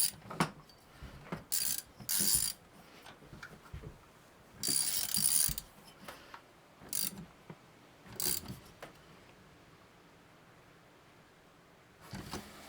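A ratchet tightens a 13 mm decompression valve into the head of an Echo 620P chainsaw, giving quiet close clicking bursts in uneven spurts separated by short pauses.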